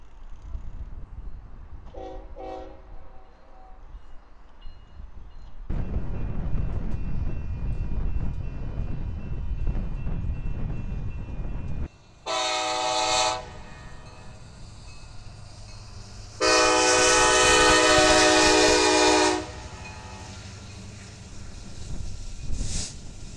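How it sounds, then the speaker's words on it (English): A southbound Union Pacific train on a connector track near a junction work zone rolls past with a steady rumble, while its horn sounds in two loud blasts, one short and one longer. "A southbound Union Pacific train takes the Lyon Street connector track."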